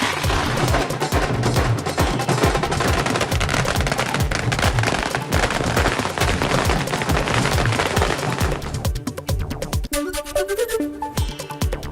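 Dense, rapid crackling bursts of firecrackers and fireworks at a celebration in Thane pop continuously and loudly, thinning out near the end into scattered bangs amid background noise.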